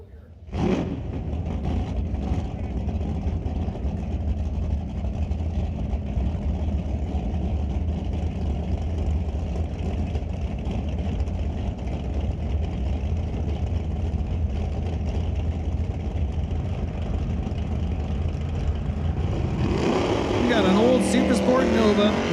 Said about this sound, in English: Super Sport Nova with a wheels up launch next to the diesel Ford of Rob Getz.